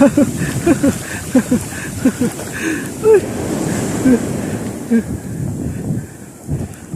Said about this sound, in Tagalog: Medyo lumalakas na yung alon mga kaidol.